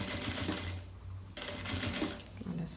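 A sewing machine stitches along the edge of a fabric travel organizer for shampoo and creams, running in two short rapid bursts separated by a brief pause, close and fairly loud.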